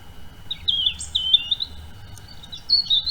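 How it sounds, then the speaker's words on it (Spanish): A songbird whistles a series of clear, high chirping phrases close by, several short tuneful bursts separated by brief pauses against a quiet background. "Si escucháis cantar a un pájaro me diríais que está haciendo una melodía."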